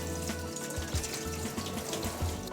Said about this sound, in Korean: 구연산수로 잘 닦았다면 다시 한번 따뜻한 물로 깨끗하게 세척합니다